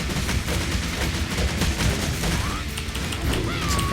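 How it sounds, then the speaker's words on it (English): Walls being smashed down in the action game Dragon Nest, a dense unbroken barrage of crashing, gunfire-like impacts and booming hits that stays loud throughout, with faint tonal game effects rising near the end. "So I'm trying to destroy the walls and just go in and hide."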